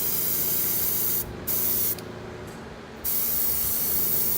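Spray gun laying down a second coat of paint, a steady loud hiss broken by two short pauses where the trigger releases, close and with no voices.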